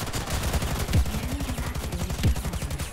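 Automatic weapon fire from the online shooter Ghost in the Shell: Stand Alone Complex – First Assault, a steady rapid rattle of shots with a few heavier thumps standing out, fairly close and without talk.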